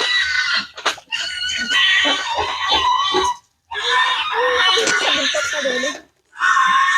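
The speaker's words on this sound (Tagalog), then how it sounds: "Yun ang mga biik." Native piglets squeal loudly and shrilly in long overlapping bursts, separated by a couple of short pauses.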